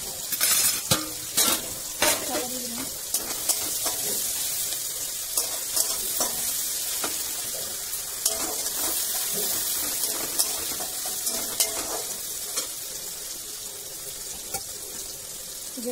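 Marinated meat for biryani sizzles in a pan while being stirred, with a continuous frying hiss broken by scraping clicks from the spoon against the pan.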